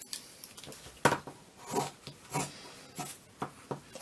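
Scissors cut through jeans denim for an upcycled bag, a series of close, crisp snipping and rasping strokes at an uneven pace.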